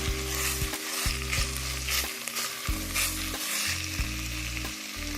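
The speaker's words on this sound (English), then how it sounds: "we're going to add in our 3 tablespoons of tomato paste. Just want to mix it in until it's well combined." Tomato paste is stirred into browned ground beef in a pot for lasagna soup: a steady, close sizzle with repeated scraping spoon strokes, no voices.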